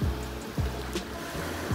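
Sea waves at a beach resort in Kemer, Antalya, Turkey, give a steady low rumbling wash with soft surges roughly every second, fairly close and alone without voices.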